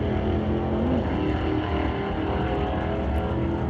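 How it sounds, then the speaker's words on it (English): A drag racing car launches wheels-up and shifts hard through its gears down the track, a loud, continuous engine roar with rising pitch sweeps, heard from a distance at the strip. "Wheels up launch as he'll jam through the gears down track."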